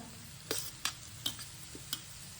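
Carrots and cabbage stir-frying in a pan, a faint low sizzle with several sharp clinks of a utensil stirring against the pan, no voices.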